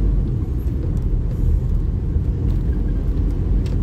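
Stop-and-go traffic on EDSA road in Metro Manila produces a steady low rumble of car engines and passing vehicles that holds constant throughout, with no talking.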